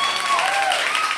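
A brief burst of applause from an audience at a cafe performance, heard as a dense, even patter of many hands clapping at once.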